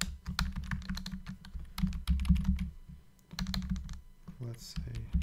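A file name typed on a computer keyboard at steady speed, a dense run of close key clicks with a brief pause near the middle, over a low background hum.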